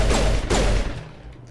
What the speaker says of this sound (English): Look, I'm shooting you.